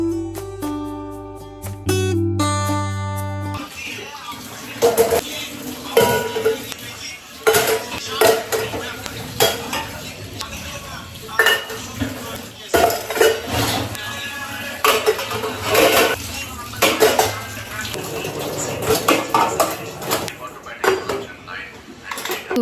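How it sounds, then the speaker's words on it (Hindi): Dishes, pots and utensils being washed in a home kitchen: continuous clattering and clinking of metal and ceramic against each other, with running water and brief talk at the start. "तो सबसे पहले अब मैं बर्तन वॉश करूँगी"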